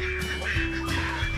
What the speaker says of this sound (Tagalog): Yan yung mga pabo.